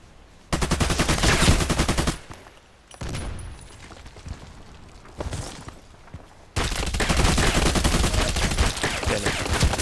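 Bursts of automatic gunfire in the online shooter Contract Wars, rapid rattling volleys loud and close, pausing mid-clip then resuming in a long sustained stream.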